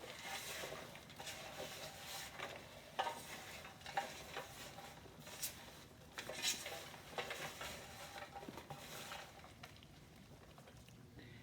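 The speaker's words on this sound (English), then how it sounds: "take this dry mix of spices and just incorporate it right through my breadcrumbs" A dry spice mix being stirred through breadcrumbs for holiday dressing, with soft scraping and light clinks of a utensil against a bowl, faint and steady, punctuated by a few sharper taps.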